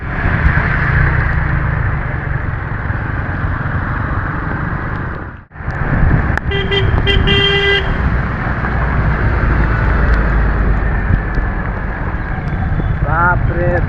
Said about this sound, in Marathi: गाडीचा आवाज येतो ट्रक ट्रक